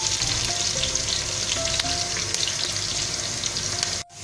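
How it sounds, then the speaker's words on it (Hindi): Onions fry in a pan toward golden brown, giving a steady close sizzle with occasional light clicks that cuts off abruptly near the end. "इसको हम गोल्डन ब्राउन कर लेंगे"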